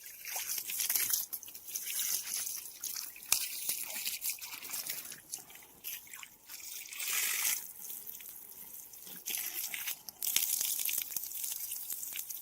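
Water gushing from a farm motor pump, a continuous splashing, trickling flow with fluctuating intensity and occasional drips, close by with no voices.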